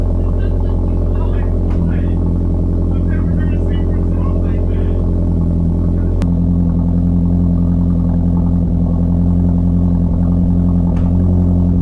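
A 2022 Subaru WRX (VB) fitted with a flex fuel kit, idling loudly and steadily at its first start, with a deep, even engine drone whose pitch shifts slightly about halfway through.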